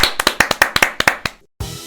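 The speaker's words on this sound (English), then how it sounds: "wrap it up with a big clap for all of us here at GTI" Ten or so sharp, evenly spaced hand claps in quick rhythm, close and loud, stopping abruptly into silence before a low background murmur returns.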